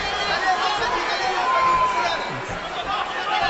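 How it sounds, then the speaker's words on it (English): A Brazilian crowd at a Khabib Nurmagomedov vs Gleison Tibau MMA fight chants and cheers in a dense, loud, unbroken roar of many voices, with no break for the whole stretch. "They're saying I'm Brazilian with a lot of pride and a lot of love."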